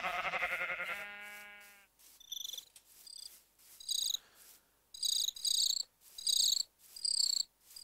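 Video game crickets chirp in repeated bright bursts with gaps between them, loud and close, after an opening bleat-like harmonic call.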